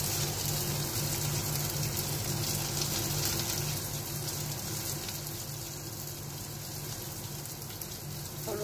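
Rice with turmeric and salt frying in hot oil for a Bengali fish head curry. A steady, close, even hiss of frying runs throughout without pause.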